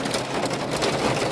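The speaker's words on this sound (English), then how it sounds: "hail coming down." Hail comes down in a thunderstorm as a dense, steady patter, a close and continuous hiss of many small impacts with no voices.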